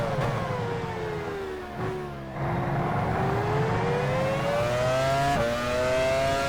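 A Formula 1 car engine whines and revs steadily in F1 Challenge 99-02, pitch rising and dipping with gear changes, moderately loud and alone.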